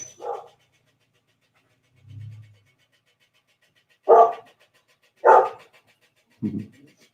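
A dog barks at a mail carrier at the door: a few sharp, loud barks spaced a second or more apart, with a low growl-like huff between them and silence around each.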